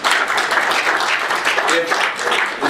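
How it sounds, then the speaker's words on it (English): A room full of people at a policy gathering claps steadily for a few seconds, a dense, even patter of hands with some voices mixed in. "give yourselves a big hand of applause"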